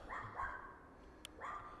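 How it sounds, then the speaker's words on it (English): A dog barks a few times in the distance outdoors, short yelping bursts spaced apart across a quiet background. "you can probably hear the dog barking over there and maybe car passing"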